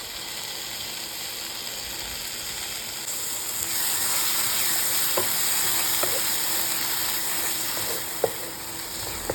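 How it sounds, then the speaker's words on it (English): Tomato and cashew paste masala sautéing in a pan, a continuous bright sizzle and hiss that swells slightly midway, with a few faint clicks of stirring. "Saute this until it becomes thick."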